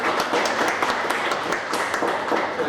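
An audience at a school award ceremony for top students claps steadily, a close, dense wash of applause that holds at a constant level from start to finish, with no clear talk.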